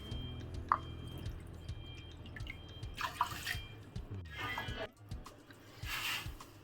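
Water splashes and trickles as it is poured into sugar in a pan for gulab jamun syrup, in short bursts of pouring separated by quieter drips, close and faint.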